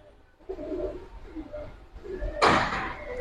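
Pigeons of fancy breeds, up for sale, give several low, soft rolling coos close by, followed by a brief sharp knock or flutter near the end.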